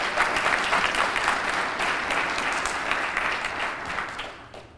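An audience at a medical school white coat ceremony in a hotel venue claps in a full, steady round of applause that tapers off toward the end.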